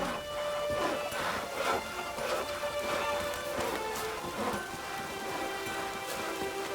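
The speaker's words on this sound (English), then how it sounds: "Raining again." Steady rainfall in The Witcher 3, a continuous broadband hiss of drops on surfaces with faint scattered ticks and a low ambient hum, moderately quiet and unbroken throughout.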